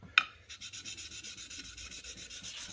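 Rusted steel bench chisel lapped on 400 grit aluminum oxide abrasive, an even back-and-forth rasping rub repeating about four times a second, close and fairly quiet, after a single sharp tap.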